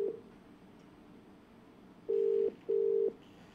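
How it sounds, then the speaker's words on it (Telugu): Telephone ringback tone heard while a news team calls a politician's phone: two steady, clean tone bursts of about half a second each, separated by a short gap, over faint background hiss. "ఆ ఫోన్ రింగ్ అవుతూ ఉంది."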